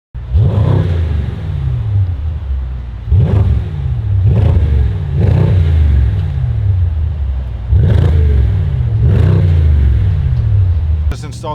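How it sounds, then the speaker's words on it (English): A 2026 Mercedes-AMG GT 63 fitted with a Capristo aftermarket exhaust revs repeatedly, each loud, close blip rising sharply then falling, about six in a row with brief pauses between. "Installed the Capristo exhaust on this sweet ass AMG GT63 2026, first in the country"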